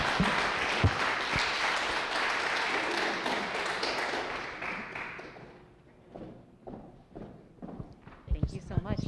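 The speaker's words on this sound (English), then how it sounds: "let's give another round of applause for Juan Perales and Senator Dinga." Applause from the audience at a summit on police culture, a dense burst of clapping that fades out midway, followed by scattered claps and a few footsteps or taps.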